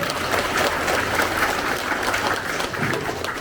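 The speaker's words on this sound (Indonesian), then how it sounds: "tepuk tangan untuk Jadi Bono" Audience clapping at a village finance forum with a regency head in Wonogiri, a steady broadband wash of many hands sustained for the whole stretch at moderate level, with faint low rumble underneath.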